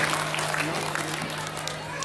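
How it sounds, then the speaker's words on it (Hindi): Listeners at a Shrimad Bhagwat Katha religious gathering in Deoghar break into loud, sustained clapping that fills the space, with a faint steady hum from the sound system underneath. "जोरदार ताली होनी चाहिए।"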